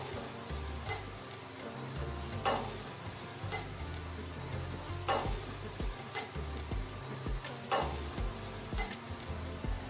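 Chilli garlic rice sizzles steadily in a pan, a close, continuous fry broken by regular scraping strokes of a spatula stirring the rice.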